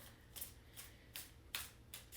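Oracle cards drawn one at a time from a newer deck, giving several soft papery slides and flicks spaced across a couple of seconds, close and quiet with no talking.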